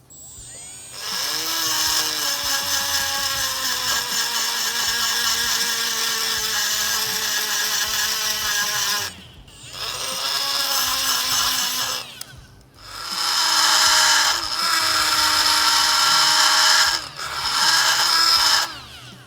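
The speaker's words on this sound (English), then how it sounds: "we're gonna sand that out just a little bit to make sure that the new ones cycle and clear perfectly" A power sander works a Polaris RZR suspension arm in three long bursts, its motor whining up and dipping in pitch under load. Each burst ends with a brief pause, and the sound stays loud and close with no voices.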